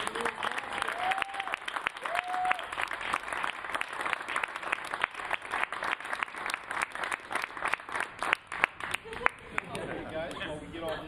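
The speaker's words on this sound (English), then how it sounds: "big round of applause" A press conference audience bursts into a big round of applause, dense steady clapping filling the room for several seconds, with a few voices and cheers mixed in before it thins out near the end.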